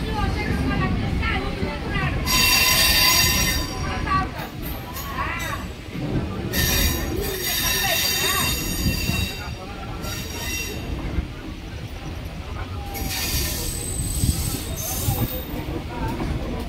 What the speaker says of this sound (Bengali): এখন ধৌলি এক্সপ্রেস